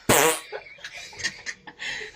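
A loud, sputtering fart bursts out up close, followed by faint giggling and scattered small sounds.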